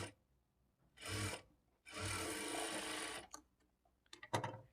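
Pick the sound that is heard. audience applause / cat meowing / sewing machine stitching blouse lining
sewing machine stitching blouse lining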